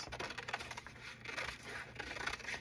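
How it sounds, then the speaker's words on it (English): Close, quiet snipping and crisp rustling as large scissors repeatedly cut images from book pages in quick, uneven strokes. "I don't know why I went from my little scissors to my giant ones."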